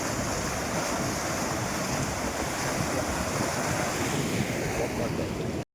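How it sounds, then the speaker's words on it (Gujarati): A full river rushes past in a loud, continuous broadband roar, mixed with heavy wind buffeting on the microphone and no clear pauses. "નદી તો જો પાણી ભર્યા છે"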